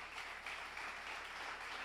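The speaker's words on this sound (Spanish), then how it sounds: "aplauda al Señor" A church congregation applauds together at a service, a steady dense wash of clapping that carries on evenly throughout, heard from a distance and fairly faint, with no voices standing out.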